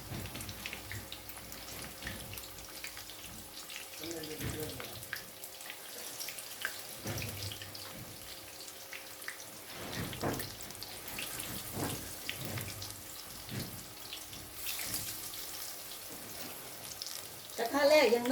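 Banana pieces fry in hot oil in a wok, giving a continuous low sizzle and bubbling with occasional scraping and stirring knocks, close and moderately quiet.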